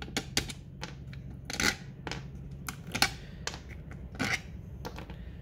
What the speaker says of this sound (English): Just unscrew these screws, take them out, put them to the side